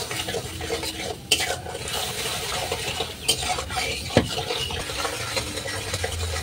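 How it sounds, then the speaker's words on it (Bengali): Spoon stirring six spoonfuls of sugar in a pan for a chutney, a steady close scraping and clinking with soft sizzling, continuous and fairly loud with a few sharper knocks. "এই যে আমি অনবরত নাড়তে থাকছি, চিনিটা যাতে ভালো করে গলে যায়"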